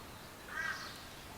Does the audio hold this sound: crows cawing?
yes